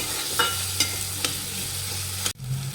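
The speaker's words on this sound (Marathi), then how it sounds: "इथे आपण एक टमाटा टाकून दिलं बारीक टाकून दिला याला छान शिजू द्यायचं मस्त" Chopped tomato frying in a pan with onion and green chilli, a steady low sizzle with a few sharp stirring scrapes and clinks, close up, ending in a brief pause before the frying resumes.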